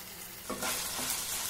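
Chicken pieces frying in a pan, a steady close hiss that swells into a louder, brighter sizzle after a stir partway through, continuing evenly with no talk.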